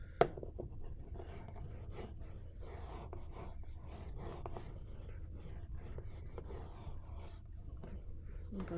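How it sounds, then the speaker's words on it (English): Paper corners being burnished during a crafting project: faint, repeated soft rubbing strokes, close by and quiet, with no one talking. "Burnish all your corners"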